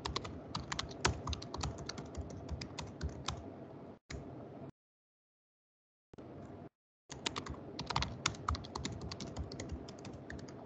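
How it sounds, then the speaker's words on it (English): Computer keyboard keys tick steadily during a video call, a dense run of quick clicking strokes that stops for a second and a half, briefly returns, pauses again, then resumes briskly, moderately close and unaccompanied by talk. "I hear some keyboards ticking"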